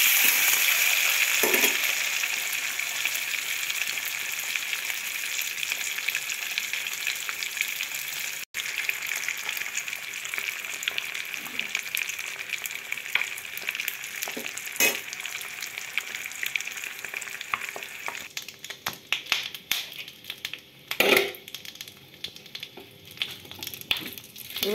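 Eggs frying in hot oil in a pan for egg curry, a long, steady, close sizzle that softens and thins later, with occasional spattering pops and a few handling knocks.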